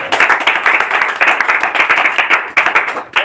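A church congregation claps together in a fast, steady rhythm, loud and close, the beats sounding in unison with brief pauses between bursts.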